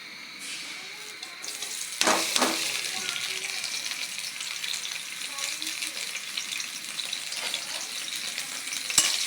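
Chopped onion and green chili fry in hot oil in a pan with a loud, steady, close sizzle. A sharp flare of crackling comes as the ingredients drop in, and the hiss stays strong throughout.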